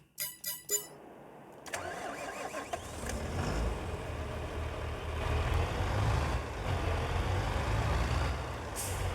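Tractor engine in the Farming Simulator 22 video game, with a few clicks before it starts up with a burst, then idles at a steady rumbling drone for several seconds, close and even, with no talk over it.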